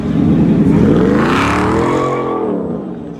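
An all-wheel-drive Ford F-150 pickup truck's engine roars close by in a strong rev that rises, peaks and then eases off, loud and alone for about three seconds.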